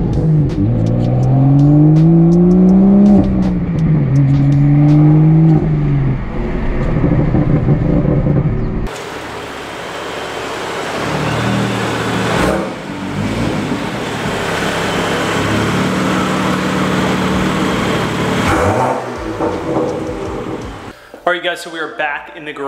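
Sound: car driving on road

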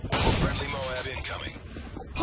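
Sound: shotgun fire in video game Modern Warfare 3

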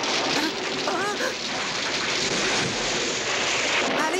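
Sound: rain falling in a Smurfs cartoon

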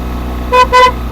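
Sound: car horn honking on mountain road

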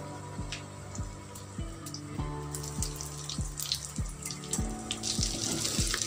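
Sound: four egg shami kebabs frying in a pan

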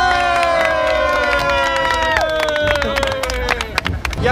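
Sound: crowd applause and cheering for roller coaster

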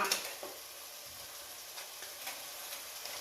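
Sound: fish added to pan with softened tomatoes, frying

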